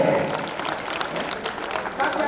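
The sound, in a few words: audience applause at a poetry event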